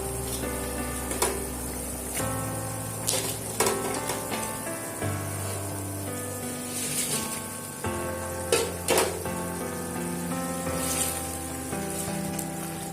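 Fried pakoras dropped into boiling chilli chicken gravy in a pan, giving a steady soft bubbling sizzle with a few muffled thumps and splashes, close and fairly quiet, with no talking.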